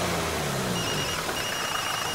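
A telephone rings continuously over a hissy room background, a steady electronic tone with no voices over it.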